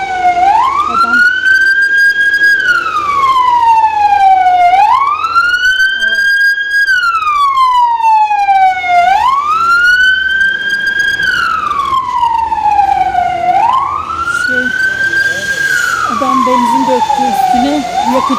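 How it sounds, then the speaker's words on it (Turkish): An ambulance siren wails loudly and close, rising and falling in slow repeated cycles with strong harmonics, continuous throughout. "Ambulans geliyor galiba."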